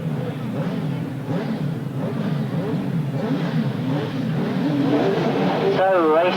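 Sidecar outfits at a 1999 grasstrack meeting roar away from the start line together, a loud, continuous engine drone that builds steadily, with a commentator's voice running over it.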